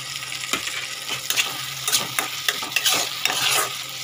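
Grated ginger and crushed garlic fry in a hot pan for a tilapia recipe. A loud, steady sizzle is broken by repeated scraping strokes of a spatula, close up.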